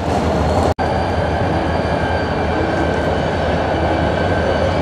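Locomotive switching railcars at Denver North Yard, heard as a steady loud rumble of engine and rolling cars with a brief gap near the start, continuous and close, without talk.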